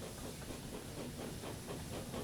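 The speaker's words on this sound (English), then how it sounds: "Hang on, I hear a train." A steam train engine hisses faintly in the Thomas & Friends Wonders of Sodor game, with a steady hiss and a soft rhythmic chuffing pulse, distant and low.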